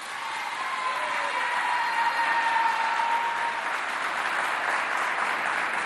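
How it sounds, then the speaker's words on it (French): Applause from a school quiz-show audience welcoming the representatives of the Félix Eboué school, a steady wash of many clapping hands at moderate distance, sustained evenly without a break. "On applaudit bien fort pour les représentants du lycée Félix Eboué."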